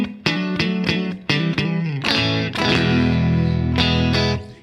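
Distorted electric guitar through an amp simulator pedal modeled on a '65 Deluxe Reverb normal channel, chords strummed in short punchy stabs and then left to ring out in a sustained, saturated wash, loud and without any voices.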